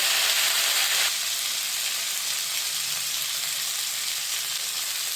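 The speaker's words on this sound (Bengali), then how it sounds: "হিংটা জলে গুলে আমি এর মধ্যে তেলের মধ্যে দিয়ে দিচ্ছি।" Asafoetida dissolved in water poured into hot oil, a loud close sizzle that flares briefly and then settles into a steady hiss.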